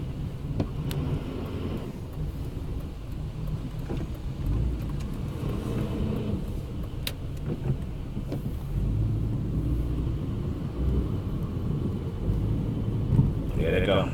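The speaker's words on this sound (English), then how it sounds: "The fire trucks are there." Fire trucks drive past on a road, a steady low engine rumble holding throughout with faint higher noise on top, moderately close and continuous without a clear siren.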